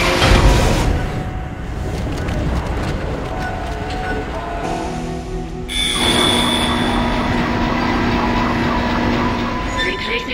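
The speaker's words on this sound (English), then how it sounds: "The tram is blocking the whole system." Heavy tram grinding along rails in the Dead Space game, a loud continuous rumble with metallic screeching and a shift in tone midway, alone without talk.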